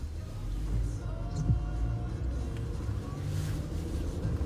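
A Jeep Wrangler JL with an 8-speed transmission drives on the road, heard from inside as a steady low engine and road hum, smooth and fairly quiet, with no clear voices.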